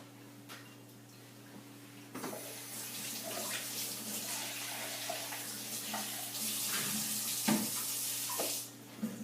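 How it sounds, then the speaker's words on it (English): A tap runs steadily into a sink to rinse off splashed lye water while making soap, a continuous rushing stream that grows fuller midway with brief clatters, then stops near the end. "I just wanted to rinse that off since it got splashed with lye water."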